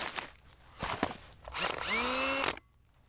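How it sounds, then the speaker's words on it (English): A cordless power drill fitted with a rapid planter auger bit for planting bulbs whirs up briefly in short bursts, then runs in one sustained, rising whine before stopping, close and fairly loud. "I actually got gifted a rapid planter auger bit that goes onto your drill that's specifically for planting bulbs"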